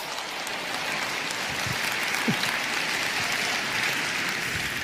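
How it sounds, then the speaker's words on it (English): An audience claps steadily throughout at an indoor talk, giving a dense, even wash of many hands that stays at the same level from start to finish, with no speech over it. "Let's clap it up for these guys."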